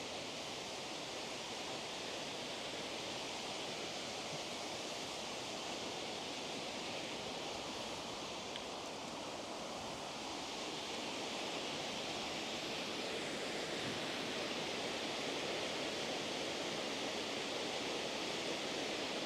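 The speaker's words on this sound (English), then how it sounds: "You can probably hear the waterfall quite well now" Steady broadband rush of the Glen Mooar waterfall on the Isle of Man, continuous and fairly loud throughout with no talk, a dense unbroken roar of falling water.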